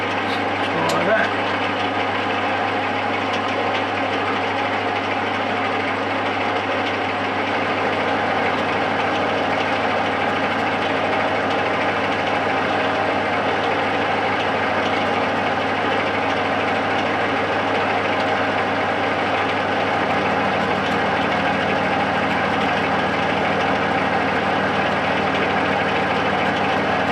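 A workshop machine spins at 350 RPM while grinder arbors are made, giving a steady, loud mechanical hum with a constant low drone that holds unchanged for the whole stretch.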